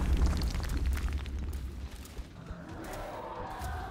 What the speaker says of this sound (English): namely an alien grenade